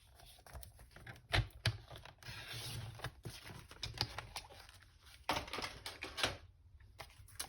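Craft paper is trimmed by hand in a quiet room, giving a scattered run of soft snips and crisp clicks with irregular spacing.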